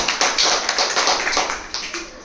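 Classroom applause for a student: a short burst of many hands clapping together, bright and fairly close, with uneven overlapping claps that fade toward the end.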